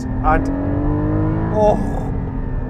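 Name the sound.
Porsche Cayman GT4 flat-six engine induction noise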